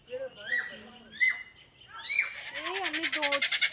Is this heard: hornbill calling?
yes